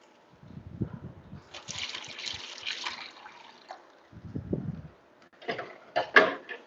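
Water splashes and trickles into a guppy fish tank in uneven bursts, separated by short pauses, close to the microphone and with no talk over it.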